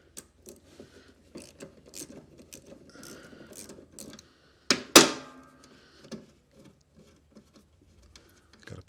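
A fastener being loosened on a zero-turn mower during repair: a series of close, short ratcheting clicks and taps, with one sharp louder metallic clank midway.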